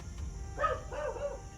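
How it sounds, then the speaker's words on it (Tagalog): A dog barks twice in quick succession, somewhat distant and moderately quiet, over a low background hum outdoors. "Kaya maingay siguro ang aso."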